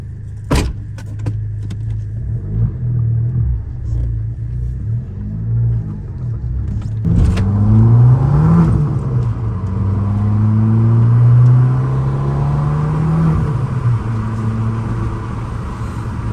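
A stage 1+ tuned 180 bhp Abarth 500 idles with a low rumble, then gets a few sharp revs that swell and fall back, heard close from inside the car on a night drive, with a brief click early on.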